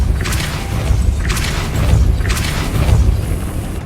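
A Depulso spell is cast again and again in the video game Hogwarts Legacy, with three bright whooshing bursts landing about a second apart over a loud, booming low rumble.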